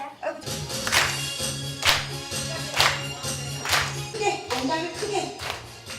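Children clap along during a singing class, with sharp hand claps landing on a steady beat about once a second over music, and voices heard in the background.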